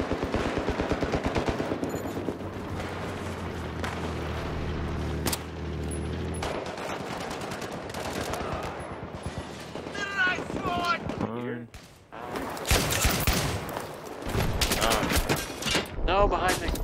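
Battlefield 3 video game gunfire: bursts of automatic shots and single cracks mixed with explosions and mechanical clatter, with players talking over the action throughout.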